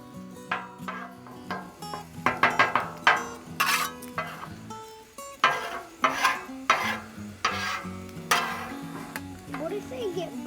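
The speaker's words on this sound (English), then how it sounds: "Not bad for your first time ever scrambling eggs." Eggs being stirred and scrambled on a Blackstone griddle, with repeated scraping and clinking of a metal spatula over a faint sizzle, while people talk nearby throughout.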